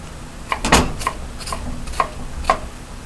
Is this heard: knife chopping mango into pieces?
yes